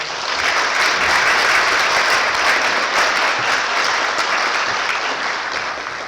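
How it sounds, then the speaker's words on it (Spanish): An audience at an institutional lecture on plate tectonics and geothermal zones gives dense, sustained applause. The clapping stays loud and even for about six seconds, and no one speaks over it. "Un aplauso, por favor."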